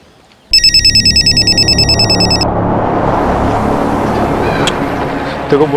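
A telephone ringtone starts abruptly and repeats in a steady electronic pulse for about two seconds, loud and close, over a continuous low background hum that carries on after the ringing stops.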